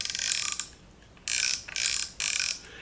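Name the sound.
baby rattle ratchet clicking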